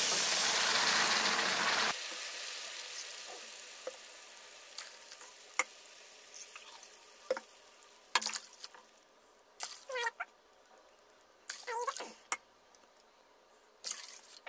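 Water is poured into a pan of fried semolina, a loud hissing rush for the first two seconds that then stops abruptly, followed by quiet scattered clinks and scrapes.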